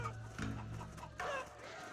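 Clucking from the Chicken Man unit in the game Totally Accurate Battle Simulator, a couple of close, loud squawking bursts with a steady low hum beneath.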